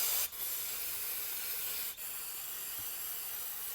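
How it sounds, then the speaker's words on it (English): Aerosol cleaner hisses steadily onto the exterior of a Craftsman 21-inch lawn mower carburetor, a close, continuous spray broken by two brief pauses. "Let's spray down this exterior."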